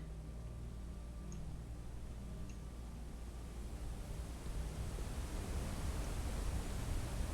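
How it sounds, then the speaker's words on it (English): Waterfall in the video game Blue Prince, a steady hissing wash of falling water that swells slightly louder toward the end. "That's a waterfall."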